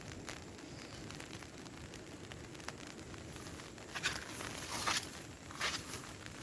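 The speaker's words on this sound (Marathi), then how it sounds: "एकदम मस्त पाऊस पडतोय" Rain falling over green trees and a village viewpoint in Kokan, a faint steady patter with scattered louder drips and rustles, no talk.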